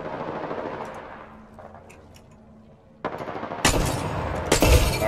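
Bursts of gunfire from a Mastiff shotgun and a Wingman pistol in the Apex Legends video game, with a quieter stretch giving way to loud, rapid close-range shots toward the end.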